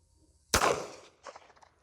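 A single sharp report from a Polish P-64 Makarov pistol fired at a target 50 yards away outdoors, loud and close with a short decaying tail and a faint echo afterward.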